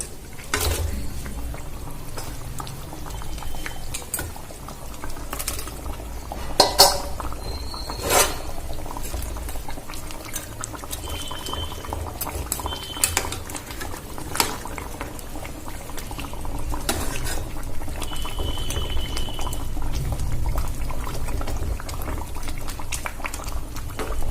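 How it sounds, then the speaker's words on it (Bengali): Mustard-based rohu curry with fried rohu fish in it bubbling at a steady boil, a continuous close simmering burble with a few soft clinks, no voices. "ঝোলটা ফুটে গেছে আমি এবার এর মধ্যে মাছগুলো দিয়ে দেবো"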